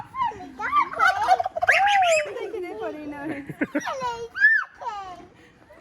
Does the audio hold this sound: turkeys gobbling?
yes